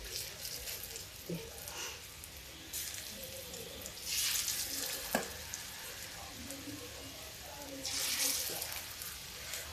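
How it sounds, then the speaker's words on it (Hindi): Bottle gourd pakoras frying in hot oil give a steady, fairly quiet sizzle with soft bubbling, and it swells louder twice as more batter goes into the pan. "ये देखिए, ऐसे ही हम सारी पकौड़ियाँ टपका देंगे।"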